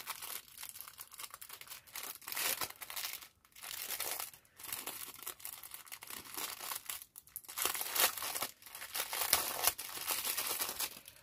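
Printed ribbon of a linen or jute-like fabric from a large craft kit, handled close by in a continuous stream of rustling, crinkling and scraping, louder in places, with no talking.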